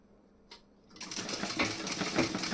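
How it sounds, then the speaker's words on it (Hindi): A sewing machine starts up after a brief click and runs a steady basting stitch, its fast whirring chatter close and continuous to the end. "यहाँ पे मैं कच्ची सिलाई लगा रही हूँ"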